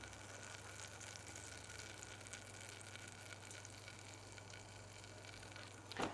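Butter and plain flour cook into a roux in a pan, giving a faint, steady sizzle and crackle with a low hum beneath. A brief louder scrape comes right at the end.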